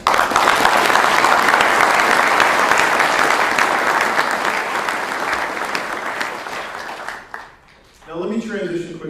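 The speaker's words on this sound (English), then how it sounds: "So I think we owe all the families a round of applause." Loud, sustained applause from the audience at a military retirement ceremony, honouring the families, gradually fading before cutting off, after which a voice speaks briefly.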